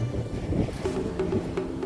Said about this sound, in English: It is windy out here. You can hear it.